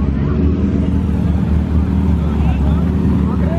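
A turbocharged car engine idles and rumbles at a car meet, a steady loud low drone with crowd noise and talk around it.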